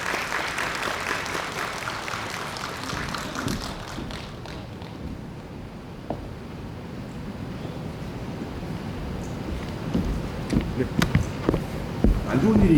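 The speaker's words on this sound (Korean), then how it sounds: "큰 박수 부탁드립니다." An audience at a school admissions strategy briefing claps in a dense, sustained burst that fades to a low murmur, with scattered louder claps returning near the end.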